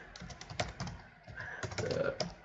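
Quick bursts of typing on a computer keyboard, close-up clicky keystrokes in uneven clusters with short pauses between, no voices over them.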